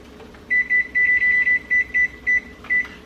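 A kitchen oven being set to preheat to 400 degrees beeps about ten times in quick, irregular short tones, clear and close in a quiet room.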